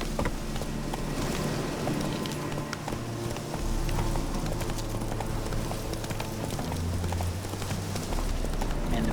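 Roach, a horse in The Witcher 3 video game, trotting with steady, rhythmic clip-clop hoofbeats over a continuous ambient game bed, fairly close and even throughout.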